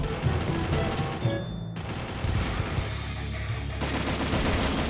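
Rapid automatic gunfire from the Free Fire battle game crackles in loud, dense bursts, pausing briefly in the middle before resuming, with no voices over it.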